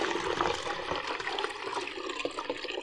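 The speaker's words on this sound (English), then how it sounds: "We filled up the 5-litre jug with 5 litres of water." Water is poured into a 5-litre jug, a close, steady splashing and gurgling stream that continues without a break.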